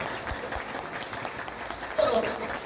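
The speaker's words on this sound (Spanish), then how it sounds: "Un fuerte aplauso." Applause from a ceremony audience at a recognition event, steady but fairly quiet and distant, with talking mixed in over it.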